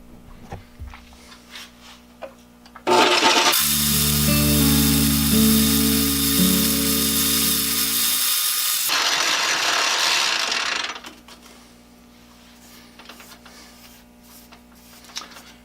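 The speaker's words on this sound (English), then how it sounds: "Gonna just chuck it in the 3-jaw chuck on the south bend and take some sandpaper to it." Wooden part of a Pexto 8014 brace spinning in the three-jaw chuck of a South Bend lathe while sandpaper is held to it, a loud steady whir and hiss for several seconds between quieter motor hum.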